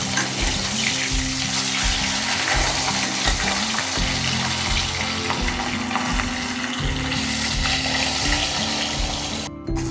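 Sizzling frying in a pan as chopped pumpkin greens are cooked, a dense steady crackle running throughout with stirring scrapes, loud and close, with a low tonal hum underneath and no talking.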